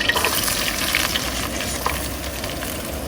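Onion frying in a pan at a riverside camp in Kuala Lumpur, a steady close sizzle with faint crackles and occasional stirring ticks, no voices.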